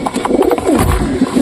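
A Lokkhagola pigeon coos close by, giving a loud, throaty, rolling call that swells and repeats over a second and a half, with no talking.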